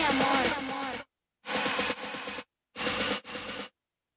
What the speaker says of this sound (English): Delay does the same thing, only it's a little shorter echo. It just does like one time.